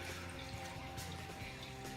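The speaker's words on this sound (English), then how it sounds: "add some water" Water pours steadily into a pot holding a leftover smoked chicken carcass, onion, garlic and vegetables for broth, a faint, continuous rushing fill with no voices.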